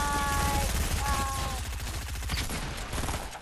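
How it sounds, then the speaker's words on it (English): Shotgun fire in the Fortnite video game: several rapid gunshots in a burst amid busy game sounds, loud and close, with brief tonal game effects near the start. "I need one more kill with the shotgun"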